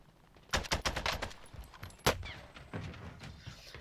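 AK-47 assault rifle fire in a video game, with several rapid bursts of automatic shots and one sharp loud crack, fairly near, ending in quieter scattered shots.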